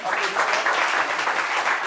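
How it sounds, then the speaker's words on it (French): A short burst of audience applause, dense clapping from a crowd, steady and moderately loud throughout. "Applaudissements pour ça."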